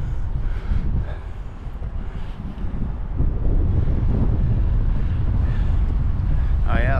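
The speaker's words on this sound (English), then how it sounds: "Oh yeah, it's windy now." Wind buffeting a microphone at the end of a pier as the tide comes in, a loud steady low rumble that swells stronger midway and holds, with no one speaking.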